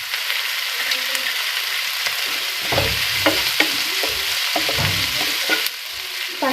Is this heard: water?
no